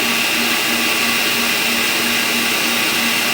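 An electric mixer whirs loudly and evenly while beating sponge cake batter at a higher speed, a constant motor drone with no pauses and no voices.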